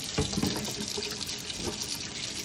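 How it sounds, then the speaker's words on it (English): Hot water runs from a household tap in a steady, close splashing stream with no voices. "I just let the tap water get real hot."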